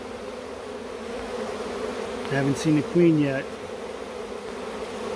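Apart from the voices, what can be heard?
honey bee swarm buzzing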